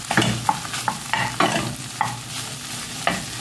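Leftover rice with shrimp and zucchini being stirred in a pan, with a run of scraping spatula strokes, about six distinct pushes, over a low, steady sizzle close by.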